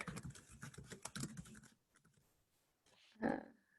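Quick, soft keystrokes patter on a computer keyboard for a couple of seconds, close and faint, then pause before a brief louder click or tap near the end.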